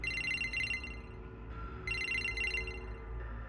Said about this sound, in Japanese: リパシさん、うん、誰も電話出てくれないじゃん